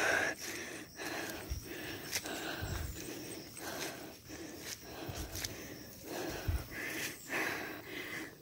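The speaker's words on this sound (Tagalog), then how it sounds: "grabe na po yung hingal ko" Heavy, labored panting after climbing a steep mountain trail, rapid gasping breaths repeating close to the mic, with faint footsteps and rustling between them.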